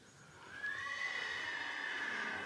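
A criollo horse gives a loud, drawn-out whinny that starts about half a second in and holds for nearly two seconds, close and alone with no voices.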